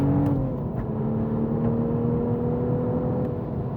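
A Toyota GR Supra with manual gearbox driving on the Monteblanco race track, its engine droning steadily at a held pitch with a slight shift early on, loud and close, no talk.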